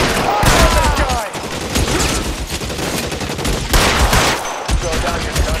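Heavy gunfire in a shootout in the video game L.A. Noire, with sustained bursts of rapid shots filling the whole stretch loudly, and shouted voices mixed in.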